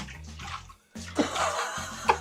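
Water is poured onto a clogged bathroom floor drain in a small Korean apartment: splashing bursts that stop briefly, then return as a louder gush with a sharp slosh near the end.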